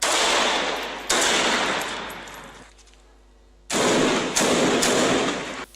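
Bursts of dense, rapid gunfire from ground fighting in Yemen crackle loudly, break off into a near-silent gap, then resume in renewed volleys.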